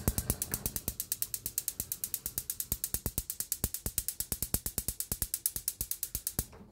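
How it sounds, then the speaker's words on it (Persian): A gas stove igniter clicks rapidly and evenly, about seven sharp ticks per second, for several seconds without pause, close and alone in a home kitchen. "این گازمون رو روشن کنیم"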